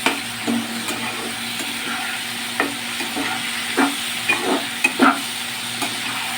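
A spoon stirs turmeric powder and spices in a pan for a ridge gourd, potato and poppy seed dish. Light scrapes and taps fall irregularly over a faint background hiss, and no one speaks.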